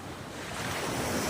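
Sea waves washing in at a beach in Bauang, La Union, a steady broadband surf roar with wind buffeting the microphone, continuous and fairly close, with no voices.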